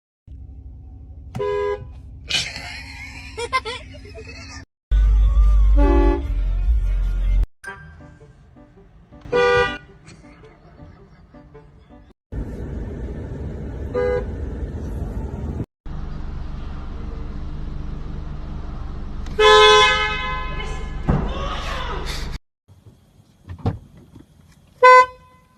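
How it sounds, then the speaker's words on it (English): A car horn blasts in sharp bursts during street pranks on passers-by, loud and close, with gaps of quiet and faint movement between honks. "The car horn always brings out the jumpy face in people."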